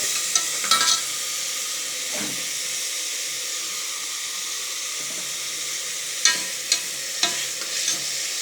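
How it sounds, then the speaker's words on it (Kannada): Chopped tomatoes frying in a hot pan, a constant hiss of sizzling oil with a few clattering spatula stirs near the start and a cluster of sharper scrapes toward the end. "ಇವಾಗ ಹೆಚ್ಚಿಟ್ಕೊಂಡಿರೋ ಟೊಮೊಟೊನ ಹಾಕಿ ಫ್ರೈ ಮಾಡೋಣ ಫ್ರೆಂಡ್ಸ್"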